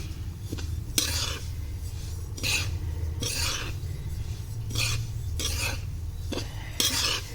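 Sesame seeds dry-roast in a pan over high heat while a spoon stirs them in repeated scraping, rasping strokes about once a second, close up and with no talk.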